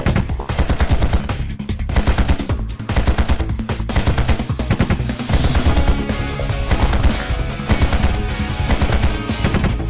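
Rapid bursts of gunfire from the mobile mecha shooter game Chaos Mecha, dense and continuous machine-gun volleys, loud and close with no pauses, layered over game effects.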